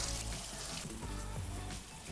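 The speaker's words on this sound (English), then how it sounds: "we're gonna drain and rinse our beans for the dal" Tinned chickpeas and green lentils rinsed under a running tap, a steady close wash of water splashing through the beans for the whole stretch, with no talk.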